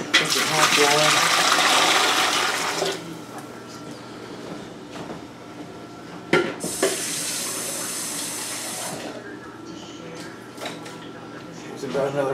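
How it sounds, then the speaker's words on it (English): Hot tap water gushes into a pressure canner, loud at first and then quieter as the pot fills, with a second strong burst partway through and a person talking over it. "I'm just going to put some water in here"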